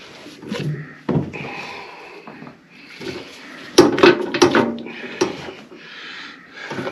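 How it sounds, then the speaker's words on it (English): A hand-cranked sausage stuffer pushes bird brat meat out, making intermittent wooden clunks, knocks and scraping rubs, some sharp and loud, others soft, spread unevenly across the stretch with no voices. "when we start cranking this down and pushing the sausage out, we want to get all the air out"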